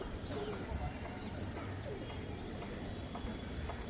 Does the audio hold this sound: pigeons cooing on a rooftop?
yes